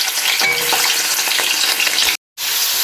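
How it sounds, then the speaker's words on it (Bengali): Shrimp frying in oil in a wok for a gourd dish, a loud, close, continuous sizzle with crackling bursts, broken by a brief cut of silence near the end before the sizzling resumes. "চিংড়ি মাছগুলো কয়েক মিনিট ভেজে নেব।"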